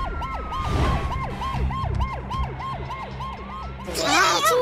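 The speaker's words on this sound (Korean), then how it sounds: "지난 2월 10일 학교 운동장에는 사이렌 소리가 가득 울려 퍼졌습니다." Emergency vehicle sirens wail in a rapid, repeating rise-and-fall pattern at a Daejeon elementary school playground. A second, higher siren cuts in loudly near the end over a background of traffic rumble.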